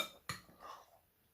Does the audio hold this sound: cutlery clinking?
yes